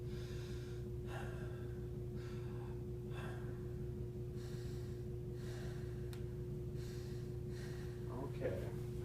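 A patient takes slow deep breaths during lung auscultation, several repeated airy inhale-exhale swells heard close and faint over a constant low hum, in a clinical assessment setting.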